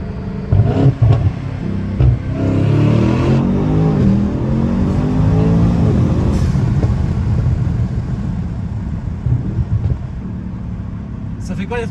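A tuned Mercedes E63s rated at 1100 hp and 1200 Nm accelerates hard through the gears, a deep engine roar and rumble heard from inside the car, with occupants talking over it.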